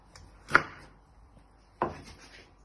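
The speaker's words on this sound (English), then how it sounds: "So you're just chopping them into 3 pieces first." Two sharp knife chops cut prawns on a cutting board, about a second apart, close and crisp in an otherwise quiet room.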